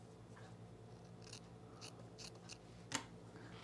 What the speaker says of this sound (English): let me just cut off a little piece here